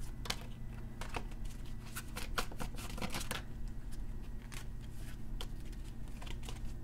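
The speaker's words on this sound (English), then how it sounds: "I'm just going to take the top one because there's too many cards flopping out." Tarot cards are shuffled in the hands, giving rapid papery riffles and soft slaps as loose cards flop out of the deck, close and steady over a faint background hum.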